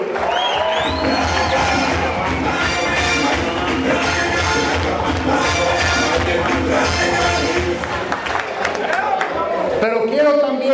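A crowd at a youth political rally claps and cheers, with whoops rising over sustained dense applause that stays loud and close throughout and eases slightly near the end.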